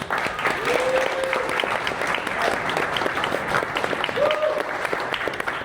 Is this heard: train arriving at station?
no